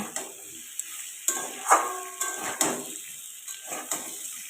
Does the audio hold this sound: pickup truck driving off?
no